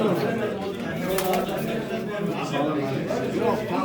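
Pigeons coo softly amid a busy, crowded pigeon auction, with people chattering nearby and the soft murmuring calls repeating throughout.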